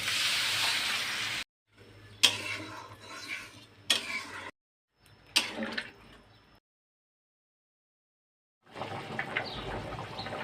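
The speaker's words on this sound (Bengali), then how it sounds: "আলু কষানো হয়ে গেছে, এখন আমি দিয়ে দেবো জল" Water poured into a pot of fried potatoes for aloo dum, heard as several bursts of splashing and hissing liquid separated by silent gaps, close and moderately loud.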